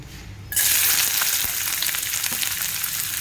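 Onion hits hot oil for mutton kharda: after a brief quiet moment a loud sizzle bursts in and holds as a dense, close, continuous crackle.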